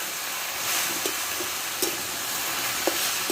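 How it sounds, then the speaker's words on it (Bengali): Jute leaves fry with salt in a pan, giving a steady close-up sizzle and hiss broken by a few sharp clacks of stirring, with no talking. "ভালো করে আমি শাকটাকে ভাজতে থাকবো"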